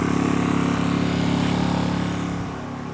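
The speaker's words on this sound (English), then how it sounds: "if I turn this knob all the way to off, you can see it doesn't completely shut down. It's going to burn up that fuel in that carb bowl" A Heomaito 1200-watt inverter generator hums steadily with a constant mechanical drone, then begins to wind down and quiet near the end as it burns off the fuel left in the carburetor after being switched off.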